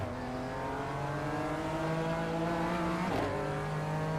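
A BMW race car engine in iRacing during the BMW M Power Tour, a strong steady drone holding high revs with layered harmonic whine, then a quick dip in pitch at a shift before it climbs again, close and continuous with no talk.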